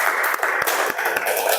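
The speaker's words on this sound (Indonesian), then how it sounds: "Kita tepuk tangan buat Mbak Putih sama Mas Bilal." A classroom group applauds two presenters after a micro-teaching session, steady broadband clapping filling the short stretch at moderate level, with a few sharper individual claps standing out.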